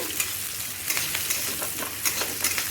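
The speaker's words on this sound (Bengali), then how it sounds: "খালি আমি এটা ফ্রাই করব" Food frying in a pan while a curry is cooked, with a steady sizzle broken by repeated spatula scrapes and stirring strokes at an uneven rhythm, close and moderately loud, no voices.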